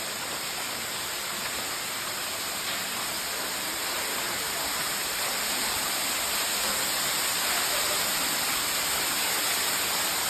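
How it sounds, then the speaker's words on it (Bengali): A waterfall drops into a rock gorge worn away by water, giving a loud, steady broadband roar that stays unbroken and fills the whole stretch, with no voices. "একটা অসাধারণ ঝর্ণা আছে এখানে, ঝর্ণাটা পড়তেছে ঠিক এখানে, পানিটা পড়তেছে"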